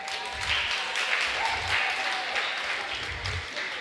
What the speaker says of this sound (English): You can please clap for that.